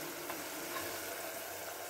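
Paneer frying in a pan, a dense continuous sizzle with a soft stirring scrape, steady and close without any talking.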